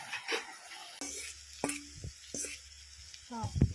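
Garlic frying in oil in a wok, a steady crackling sizzle broken by clanking spatula strokes against the pan and a few short background noises.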